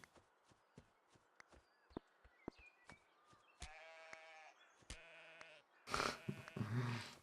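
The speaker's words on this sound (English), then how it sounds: "Getting the sheep." Sheep bleat twice in a casual mobile video game, with wavering cries standing out over a steady run of light tapping footstep effects and a brighter burst of game sound at the end.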